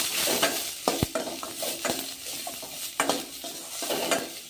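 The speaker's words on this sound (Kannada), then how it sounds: "ಇದ್ರೊಳಗೆ ನಾನು ಬದನೆಕಾಯಿನೂ ಹಾಕೋತೀನಿ. ಹಾಗೆ 1-2-5 ಹಸಿರು ಬೆಳ್ಳುಳ್ಳಿ ತೊಗೊಂಡಿನಲ್ಲ, ಇವು ಬೆಳ್ಳುಳ್ಳಿನೂ ಹಾಕೋತೀನಿ. ಫ್ರೈ ಮಾಡೋಣ." Eggplant, onion, green chillies and green garlic fry in a pan with a steady sizzle, punctuated by regular clacks and scrapes as a spatula stirs, and no one talks.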